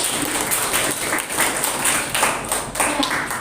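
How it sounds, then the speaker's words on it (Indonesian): A small class claps for a student's presentation in a classroom, a close, fairly dense patter of hands with a few sharper strikes standing out, steady and moderately loud, without talk. "tepuk tangan"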